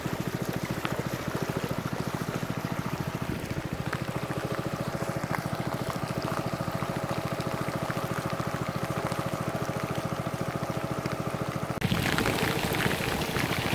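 Heavy rain pours steadily during a boat trip to a creek in a riverside community on Lago Amanã in the Amazon, a dense continuous hiss with a low engine thrum pulsing underneath, growing a little louder near the end.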